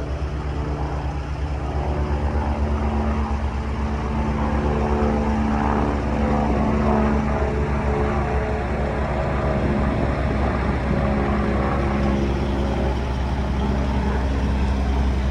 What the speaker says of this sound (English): Oh, we got a low flying helicopter.